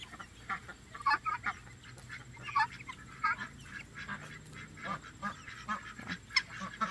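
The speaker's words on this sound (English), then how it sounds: "So, these are the new guineas." Young guinea fowl call repeatedly nearby, a stream of short squeaky chirps and honking cries overlapping in an uneven rhythm over a quiet background.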